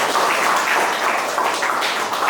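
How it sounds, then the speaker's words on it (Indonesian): Applause from a lecture class for a student, a steady wash of many hands clapping close by for the whole stretch with no pauses. "Kita beri tepuk tangan untuk Rizka"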